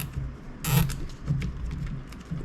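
A zip tie is ratcheted tight while securing wiring on a 2025 Sea-Doo RXT-X 325 personal watercraft, a few short close clicking pulls with faint creaks.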